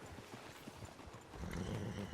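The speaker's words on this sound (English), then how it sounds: "There come our horses." Horses from Red Dead Redemption 2 draw near, a soft rising clatter of hooves that grows louder toward the end over faint outdoor ambience.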